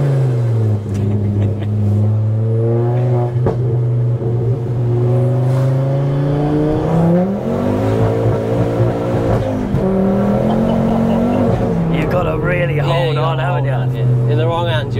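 Tuned 400 bhp fully forged Ford Focus ST with a custom exhaust and RS clutch accelerating, a loud steady engine drone rising and falling in pitch through gear changes, close and continuous.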